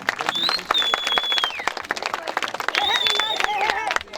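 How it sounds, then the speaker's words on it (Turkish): An outdoor crowd at a village highland festival applauds Beyza Nur with steady, dense clapping, while people talk and shout over it and a high tone sweeps through. "Beyza Nur'a bir alkış alalım"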